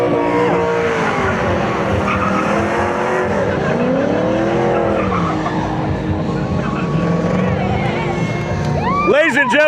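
A GTA race car, the Dragon Lady, takes a hot autocross lap, its engine roaring loud and steady throughout with rising and falling revs, tire squeal and skidding toward the end, while an announcer talks over it.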